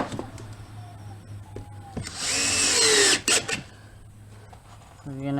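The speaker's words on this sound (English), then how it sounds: "So let's get a couple screws in this just to hold it in." A power drill drives a couple of screws into a drywall patch, giving a loud sustained whine for about a second and a half with short bursts after, over low background hum and a voice talking.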